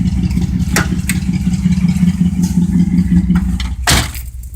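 A 1972 Oldsmobile 98 V8 idles after a cold start, a steady low rumble running close and loud throughout, with a few sharper clanks and knocks riding on top near the end.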